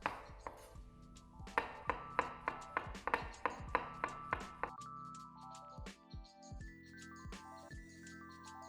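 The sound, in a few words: knife slicing mushrooms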